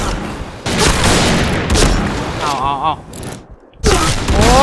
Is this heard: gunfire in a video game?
yes